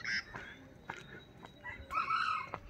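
Bird calls on a forest hike near Pokhara, a few short, bright chirps and a longer call near the end, fairly close against quiet background.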